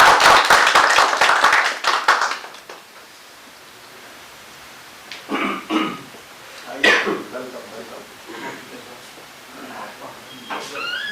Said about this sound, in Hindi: आगे बुलाएं तालियों से।